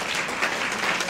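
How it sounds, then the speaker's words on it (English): At a memorial lecture and awards ceremony an audience claps for a poem, a dense burst of applause filling the short moment. "let's clap for the poem"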